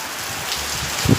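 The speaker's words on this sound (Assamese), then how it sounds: "কেমেৰালৈকে পানী পৰিছে" Rain pours down outdoors, a steady broadband hiss close to the recorder with a few louder patters and splashes near the end; no one speaks.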